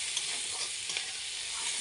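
Vegetables sizzle and fry in a pan with salt, turmeric and sugar stirred in, a steady close crackling hiss with light stirring scrapes and no talk.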